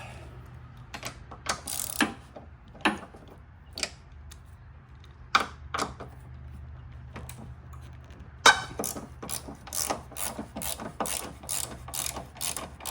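A ratchet with a size 14 socket loosening strut mount bolts on a 2007–2011 Toyota Camry, sharp ratcheting clicks in short bursts, then faster repeated clicking, close and clear with no talking.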